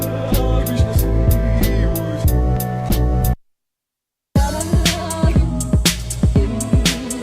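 Finger drumming on a Roland SP404MK2 sampler lays down a punchy beat of kicks, snares and hi-hats over a sampled chord loop, breaking for a second of silence before the groove resumes.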